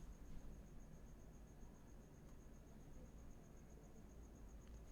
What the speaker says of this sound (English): Can you guys hear the crickets